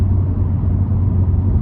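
A turbocharged 2020 Honda Civic Si pulls under acceleration with its air conditioning running, giving a steady, loud low engine drone that holds evenly throughout with no voices.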